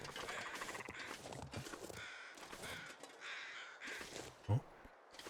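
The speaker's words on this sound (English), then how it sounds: "I hear birds, ptarmigans." Ptarmigan birds in the snowy survival game The Long Dark give harsh, croaking calls in short repeated bursts, faint and slightly distant, with a brief low thump near the end.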